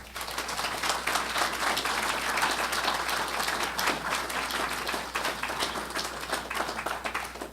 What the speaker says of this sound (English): I'm not used to getting applause south of Mason and Dixon